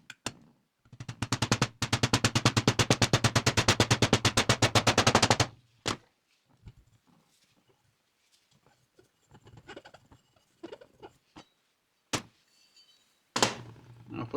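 Rapid metallic tapping drives a part into a 1956 VW steering box during a rebuild, a dense burst of quick hammer strikes for several seconds, then a few single knocks and a short final flurry.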